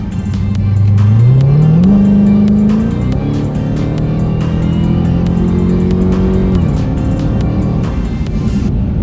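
Supercharged Dodge Hellcat cruising with stock intake, a loud steady engine drone with a rising pitch sweep as it accelerates, then a sustained whine that holds and settles, close and continuous with no talk.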